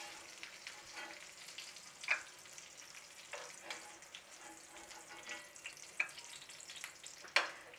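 Potato batata vada bubble and fry in hot oil, a faint, continuous crackling sizzle with occasional sharper pops and light clinks.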